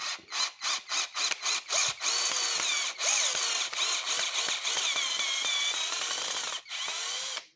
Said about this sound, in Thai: ขันสกูได้ ก็เรื่องเจาะคงไม่ต้องห่วงนะครับ